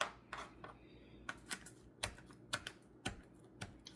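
A knife roughly chopping fresh herbs on a board for cheesy garlic bread, a series of sharp, separate thuds and taps in an irregular rhythm, close and fairly quiet.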